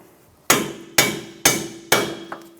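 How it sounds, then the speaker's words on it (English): Four sharp, evenly spaced hammer blows ring out on steel while a bolt is tapped out of the steering knuckle of a 2012-2020 Chevrolet Sonic front strut assembly. Each strike decays briefly, and a faint extra tap follows the last blow. "Using a hammer, we're going to tap it out."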